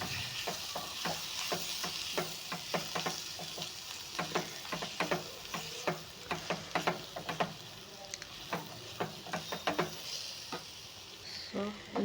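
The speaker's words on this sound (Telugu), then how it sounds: "సో ఇప్పుడు ఇది బాగా మిక్స్ చేసుకోవాలి మనం." Boiled horse gram with chili powder, stirred and fried in a pan: a low continuous sizzle broken by a steady run of quick spoon taps and scrapes against the pan, close and clear with no talking.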